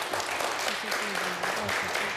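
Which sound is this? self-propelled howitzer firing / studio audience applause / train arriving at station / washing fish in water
studio audience applause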